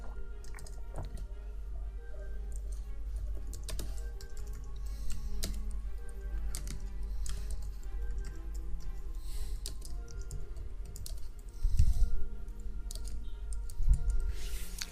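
Typing on a computer keyboard while working in MS Word, with steady close key clicks and a couple of heavier key presses like Enter near the end, over a low hum.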